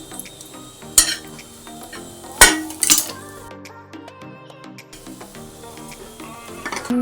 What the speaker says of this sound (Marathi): बारीक सुकट भाजून घ्यायची